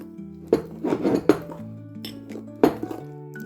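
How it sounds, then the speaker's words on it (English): A spatula stabs and pokes at a stiff, thick electuary mixture in a bowl, giving a few sharp clinks and knocks against the bowl with quieter scraping between them, close and alone. "Just keep stabbing and poking at it, and it's almost too stiff to use a spatula"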